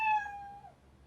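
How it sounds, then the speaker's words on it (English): A cartoon cat from an animated children's series gives one clear, drawn-out meow that slides downward in pitch and fades, heard alone and close up. "But they're just cats."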